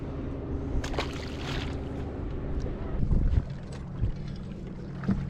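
A wake boat's engine drones low in the distance across open lake water, with wind buffeting the microphone and small splashes nearby.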